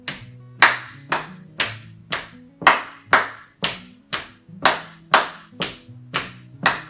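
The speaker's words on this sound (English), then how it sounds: "I just call it slap, slap, clap, clap." A group marching in place slaps their legs and claps their hands during a strength and balance warm-up, producing about a dozen sharp, evenly spaced hits in a steady rhythm alongside faint tonal background music.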